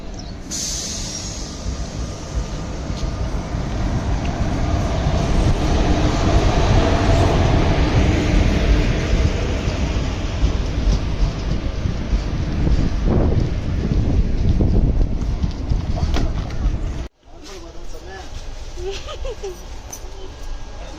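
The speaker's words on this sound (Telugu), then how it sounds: "ట్రైన్ ఎక్కడి నుంచి వస్తుంది?" A loud, steady train rumble roars close by with rushing wind noise, then suddenly drops away near the end to a quieter hum.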